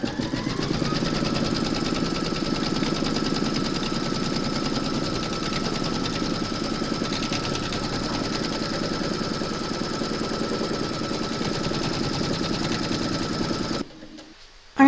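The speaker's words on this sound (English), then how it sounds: "Pop your hoop into your machine and stitch round number 2 to secure it" An embroidery machine stitching the second securing round of a large appliqué in a hoop, a loud continuous rhythmic needle hammering and motor hum that runs steadily for many seconds before cutting off near the end.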